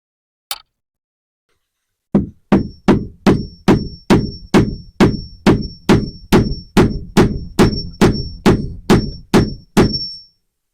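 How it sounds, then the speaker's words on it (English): A hammer cracking extraordinarily dense walnuts: after one early tap, about sixteen sharp, evenly spaced blows ring out close and loud, each with a short metallic ring. "I'm getting a hammer."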